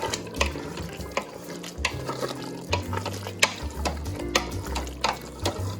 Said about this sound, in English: pour this cornstarch liquid in here and give it a good stir